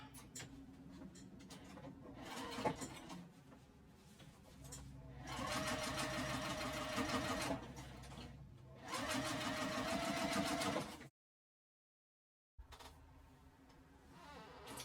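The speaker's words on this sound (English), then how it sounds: "let's put it up there and top stitch" A sewing machine runs in several bursts of fast, steady whirring while top stitching a tote bag, with short pauses between runs and a stretch of full silence near the end.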